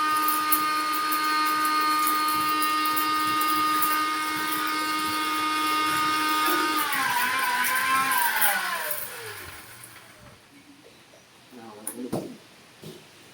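An electric grinder powdering rice whines loudly and steadily for several seconds, then spins down and falls quiet, leaving faint handling noises and a brief burst of sound at the end.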